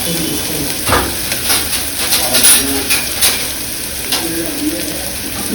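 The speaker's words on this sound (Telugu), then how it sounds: "ఆయిల్ బాగా వేడెక్కాక ఆనియన్స్ వేయాలి." Onions dropped into hot oil for a mushroom curry, sizzling and crackling steadily with occasional spoon stirs and scrapes, a close, continuous hiss with small pops throughout.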